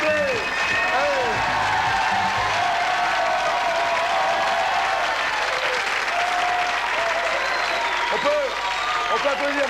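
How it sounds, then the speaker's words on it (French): Studio audience on a 1993 French TV game show claps in loud, sustained applause, with a host's voice speaking over it. "On peut applaudir Marco Olivier, s'il vous plaît également."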